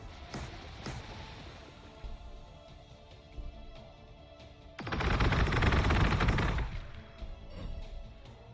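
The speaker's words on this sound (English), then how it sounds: "More Melta-fire." Scattered shots crackle in the background, then a loud sustained roaring blast of melta weapon fire in Warhammer 40,000: Gladius lasts about two seconds before fading back to distant shooting.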